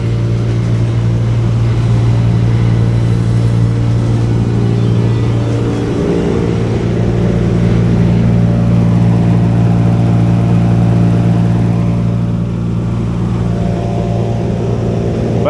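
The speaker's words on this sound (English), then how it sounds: "I think that's a 100 horsepower machine." The engine of a 100-horsepower machine runs loud and close with a steady, heavy droning hum that dips briefly partway through, and no one speaks over it.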